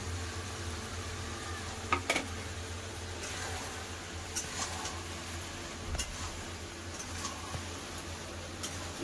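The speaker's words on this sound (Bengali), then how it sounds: "সব মশলা দিয়ে ভালো করে মাংসটাকে কষে নেব।" Chicken frying in a pan with ground coriander, turmeric, chili and Kashmiri chili powder: a faint, steady sizzle with a few scattered sharp ticks and scrapes of a utensil, quiet and close.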